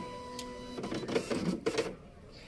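An office printer hooked up over an RS232 interface switches on with a short electronic tone, then whirs and clatters mechanically in a few bursts before settling quiet, heard fairly faint with no talk.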